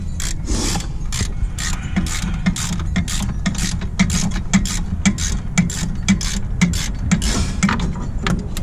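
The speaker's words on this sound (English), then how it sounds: "my cheapest ratchets." A long-handled ratchet clicks rapidly and evenly while working on the rear brakes of a Mercedes E430 W210, a close, continuous run of sharp pawl ticks with no talking.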